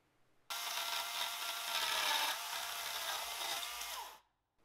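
Power saw cutting through wooden battens for a chicken aviary build, one continuous loud, rasping cut of about four seconds that stops abruptly, with no talking.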